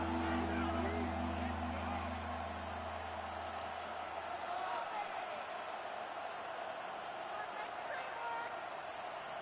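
Loud, steady stadium crowd roar from a Lions–Vikings football video game, filling the whole stretch with dense broadband noise; a low engine-like hum sits underneath at the start before fading.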